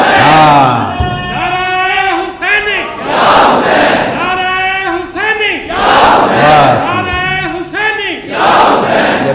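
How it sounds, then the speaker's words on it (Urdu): A large crowd at a Muharram religious gathering chants a rhythmic devotional slogan in unison, loud and close, with voices swelling in repeated bursts about every two seconds. "ایک نعرہ حسینی لگایا کرو، اور نعرے میں کہا کرو یا حسین"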